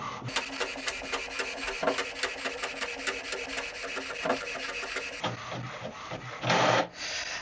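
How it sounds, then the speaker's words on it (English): HP Envy 6120e inkjet printer making a double-sided copy, a steady mechanical whirring and rasping with rhythmic clicks as paper feeds through, then a brief louder burst near the end, close and without talk. "And now it's making a copy. And pulling the document down to print on the second side."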